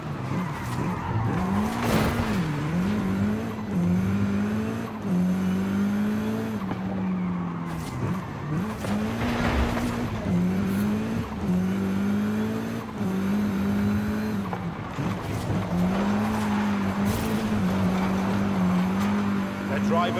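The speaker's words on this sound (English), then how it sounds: "You can almost hear the giant wheels of the monster ghost" A giant-wheeled monster racing vehicle in Forza Horizon 5 roars through repeated revving surges, its engine pitch rising and falling, with tire squeals over continuous race noise.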